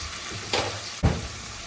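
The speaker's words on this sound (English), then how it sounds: "I'm going to go right in with my bacon. And we're going to also add some diced onion." Bacon and diced onion frying in a pan give a soft, steady sizzle, broken by two brief louder bursts as the food drops in and shifts, with no talking.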